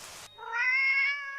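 A single drawn-out cat meow in the visual novel Shining Song Starnova, clear and close, rising then holding with a tonal, wavering pitch after a brief burst of noise, with no voices.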